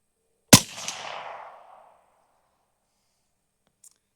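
A single sharp crack from an AK rifle, either a PSA GF3 or a Zastava M70, firing supersonic rounds, rings out loud and close, then fades over about a second; a faint click follows a few seconds later.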